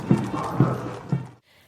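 Horses of the 61st Cavalry Regiment, an unmechanized horse-mounted unit, march in a parade, their hooves landing in three evenly spaced, fairly loud thuds before the sound cuts off abruptly.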